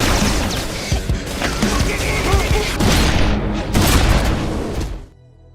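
Gunfire in a movie shootout, rapid bursts and booming shots mixed with crashes and impacts, loud and dense before cutting off abruptly, with voices under the action.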